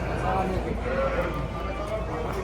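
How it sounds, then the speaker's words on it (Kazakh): Lambs at a sheep market bleat amid a dense, noisy crowd, their calls mixed under constant nearby talk and general market bustle. "Қозылар."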